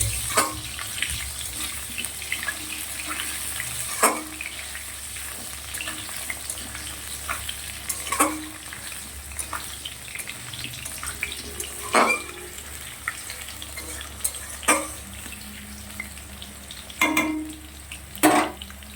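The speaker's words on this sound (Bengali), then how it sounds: "এখানে দেখো জিরে ফোড়ন দিয়ে আলুটা একটু ভেজে নেবো লাল লাল করে।" Potato pieces frying in oil with a cumin seed tempering give a soft, steady sizzle, broken by sharp spatula scrapes and knocks against the pan every few seconds. No one speaks.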